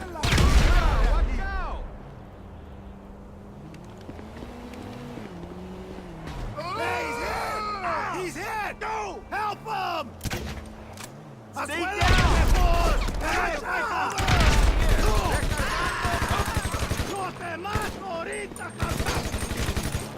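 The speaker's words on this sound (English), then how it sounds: "Grenade launch the entrance and blow them all up" Gunfire and explosions in GTA Online, with long bursts of automatic fire, heavy blasts and distant booms layered over game music and effects, growing denser and louder in the second half.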